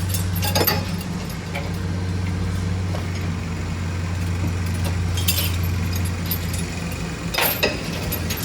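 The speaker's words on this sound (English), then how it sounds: "So the first thing I do is I remove my chains." Metal RV hitch safety chains being unhooked, a few scattered clinks and rattles over a steady low engine or generator drone outdoors.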